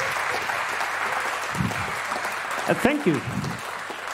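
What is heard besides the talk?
audience applause for conference speakers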